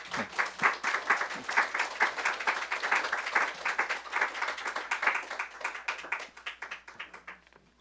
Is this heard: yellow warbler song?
no